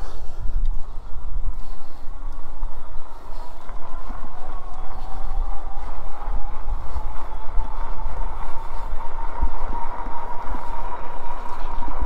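A GoPowerBike GoCruiser 750W folding e-bike rides at full speed, with steady wind rush, tire roar and a faint rising motor whine running continuously for the whole stretch; no talk.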